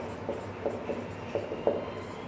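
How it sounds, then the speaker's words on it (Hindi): Handwriting of the given data for a Class 9 gravitation numerical: faint, scratchy pen strokes come in several short bursts over a low steady background hum, with no talk. "सबसे पहले लिखना है. Given data"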